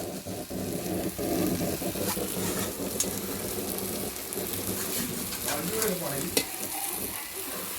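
Kolim (Acetes shrimp) frying in an onion-tomato masala on a wood-fired stove in Konkan style, with a continuous sizzle and repeated scraping stirs and clinks, moderately quiet and close.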